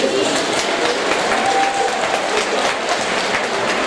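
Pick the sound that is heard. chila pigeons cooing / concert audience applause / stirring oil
concert audience applause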